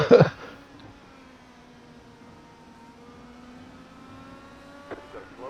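A race car engine in the iRacing sim, an IndyCar at Circuit of The Americas, drones at a steady high pitch after a brief loud burst at the start, with a faint rise near the end.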